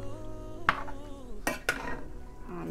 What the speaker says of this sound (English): Just stir that in there